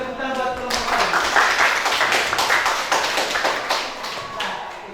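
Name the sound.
class clapping for group 1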